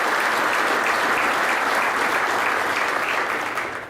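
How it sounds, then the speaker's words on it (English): Applause at a sports hall of fame banquet during halftime induction ceremonies: loud, dense clapping from a large crowd, sustained and even throughout, tapering slightly in the final half second. "So if you could give those folks a round of applause."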